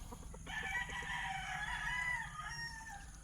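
A battle stag rooster crows once, a loud drawn-out cock-a-doodle-doo lasting a couple of seconds, preceded by a few short clucks, close by with no talk.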